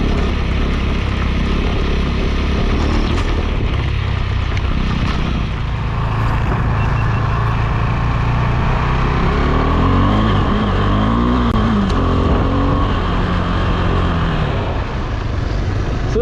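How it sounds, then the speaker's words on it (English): A KTM 390 Adventure motorcycle ridden off-road, its engine droning loud and steady throughout with rising and falling revs, mixed with broadband wind and rolling noise. "Suntem pe off-road cu KTM 390 Adventure."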